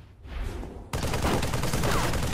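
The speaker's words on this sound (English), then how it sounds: "Oh, stop shooting at me!" Rapid automatic gunfire in the Halo 3 game, a dense loud burst of shots that erupts suddenly after a brief quieter lead-in and keeps hammering without pause.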